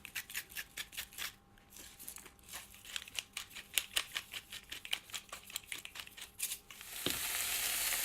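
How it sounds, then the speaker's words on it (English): Onions sizzle and crackle steadily in a pan over medium to high heat, with quick irregular pops and a brief louder hiss near the end. "So I'm just frying those onions on a medium to high heat."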